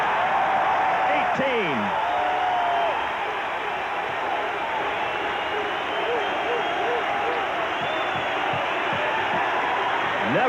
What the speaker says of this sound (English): it's not a sellout crowd by any means, but they're making sellout noises